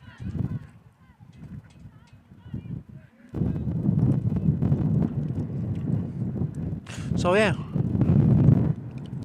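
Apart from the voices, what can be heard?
wind blowing at an outdoor softball game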